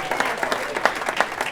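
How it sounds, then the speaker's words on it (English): Audience applause after a talk on being human, a short burst of dense, close clapping with slight rhythmic swells, no voices over it. "as they give you a big round of applause"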